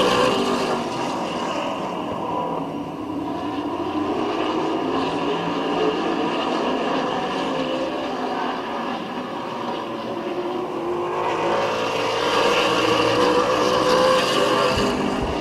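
Race cars lapping Midvale Speedway in a short-track event, engines droning steadily and fairly loud as the pack passes, with a rising whine toward the end and no talk.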